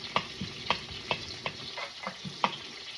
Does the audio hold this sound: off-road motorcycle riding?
no